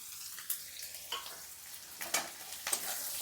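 Onion, garlic, green chillies and five-spice seeds frying in a pan, a quiet hiss with several soft scraping stirs spaced through the moment, no voices.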